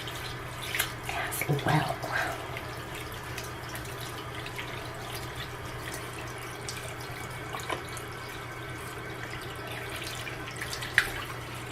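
Tap water running over makeup brushes to rinse out soap, a soft steady stream with occasional splashes and drips, quiet and continuous, with brief talking near the start.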